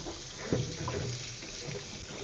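Fruit is rinsed quickly under running water in a jungle kitchen, a short steady splash and trickle with one louder burst near the start, no voices.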